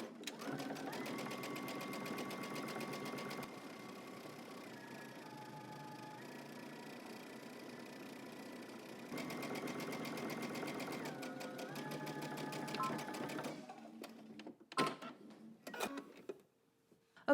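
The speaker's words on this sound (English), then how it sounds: "I'm stitching on my right side and I'm using my guide to help me stay exactly where I need to be" Sewing machine stitching down a garment hem, a steady fast mechanical whir running in long stretches with a brief slowdown, ending in a few stops and clicks, while someone talks over it.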